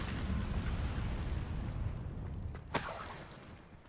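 An Incendio fire spell cast in Hogwarts Legacy, a rushing roar that ends in a single sharp fiery burst, then a fading crackling tail.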